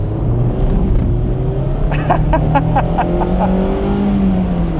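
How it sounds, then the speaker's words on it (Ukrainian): A Mazda MX-5 with a naturally aspirated engine revs under braking, the engine note rising and falling loudly and continuously, with a quick series of sharp throttle blips in the middle. "Перше гальмування, перегазовка, дуже сочні класні перегазовки"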